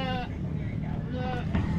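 A pregnant goat near kidding bleats on a farm, with several nasal bleats rising above steady low background noise, close to the listener.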